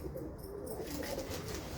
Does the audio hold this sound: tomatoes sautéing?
no